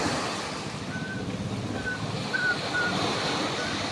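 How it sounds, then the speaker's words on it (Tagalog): Steady roar of surf and wind noise filling the whole stretch, with a few faint high beeps over the churning water. "Kahit malakas talaga yung alon ay sugod sila"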